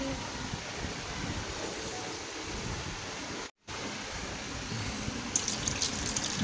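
Water poured over twin toddlers at their bath with rose petals and rose water, a steady loud splashing gush that drops out for a moment and then resumes, with no talk.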